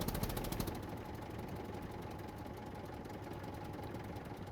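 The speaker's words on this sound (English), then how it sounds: "I hope you can hear me over the tractor." A tractor engine runs steadily in the survival video game SCUM, a loud, continuous mid-pitched chugging drone with fast rhythmic knocking, louder for the first moment and then even, with no talk.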